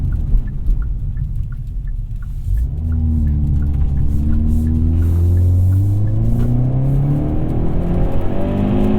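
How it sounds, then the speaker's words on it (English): A 2021 Hyundai Veloster N with dual-clutch transmission revs hard under aggressive acceleration, its loud engine note climbing steadily in pitch from inside the cabin over a rumbling road surface. "there are times when you want to hear that cool engine sound, you want to drive a bit aggressively"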